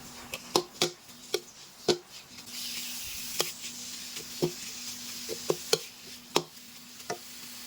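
Chicken sizzles steadily in curry paste in a hot pan while a spatula scrapes and clacks against the metal in irregular, sharp strokes.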